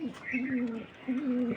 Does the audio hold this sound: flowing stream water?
no